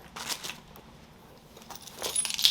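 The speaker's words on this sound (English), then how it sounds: "car keys" Car keys are handled while a bag's contents are unpacked, giving light metallic jingles and clinks in scattered bursts. They are close and fairly loud, and a busier rattle of jangling comes toward the end.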